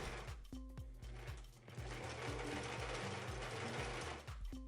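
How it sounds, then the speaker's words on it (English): A sewing machine stitches seams through a thick quilted comforter being made into a jacket, with a steady rapid mechanical chatter running throughout, close and moderately quiet, with a brief pause near the start. "Then I sewed all the seams 3/8 of an inch from the edge."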